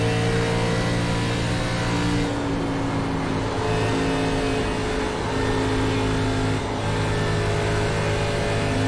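An ARCA race car's engine at Kansas Speedway in the iRacing game roars continuously and loudly, a steady high-revving drone with slight pitch shifts as the car circles the oval, with no talking.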